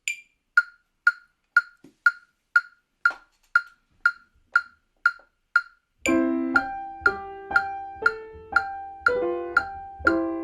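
Steady app metronome clicks in an even, rapid sixteenth-note pulse at tempo 30, sharp and close, then a plucked melody of Für Elise joins over the continuing clicks.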